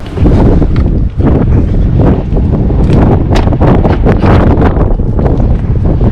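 Strong, steady wind buffets the microphone outdoors beside a Tesla throughout, a loud continuous rumble with gusty fluctuations and no voices.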